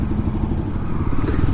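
Kawasaki KLX300SM supermoto motorcycle riding, a steady close engine drone with low rumbling pulses and some wind-like clatter running throughout, no talk.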